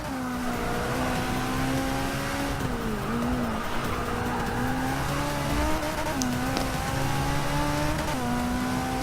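A Ferrari California T in Forza Motorsport 6 at Laguna Seca, its engine droning steadily at high revs with pitch dips at gear shifts and faint tire squeal, continuous and close with no talk.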